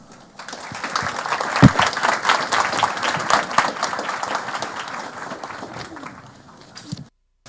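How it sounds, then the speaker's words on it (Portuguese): A lecture audience gives a welcoming round of applause for the arriving speaker, many hands clapping in a full, lively burst that builds quickly, holds for several seconds, then thins out and stops. "vamos receber o Benilton com um aplauso de boas-vindas."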